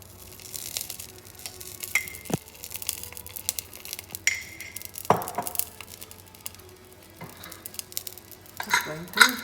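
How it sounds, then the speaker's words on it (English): A metal lid clanks shut over a pot of palak dal (spinach lentil) in which a hot coal sits on a betel leaf with ghee for smoking. Several sharp clinks and knocks come close by, spread across a quiet kitchen background. "Just going to close the lid to get that smoky flavor"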